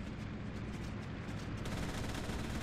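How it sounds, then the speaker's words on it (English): Continuous rapid rear-gunner machine gun fire in the IL-2 1946 flight combat game, dense and rattling, blending into a steady roar without pause over a few seconds. "that's my rear gunner taking shots at the Martlet"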